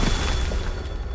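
A Confringo fire spell bursts in Hogwarts Legacy on PS5, making a loud, sustained rumbling blast that fills the whole moment without any voices.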